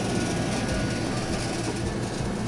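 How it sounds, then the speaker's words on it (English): Home air conditioner running in a garden setting, a steady broadband whooshing hum at low level, unchanging throughout with no voices. "Excuse that noise. That is my AC."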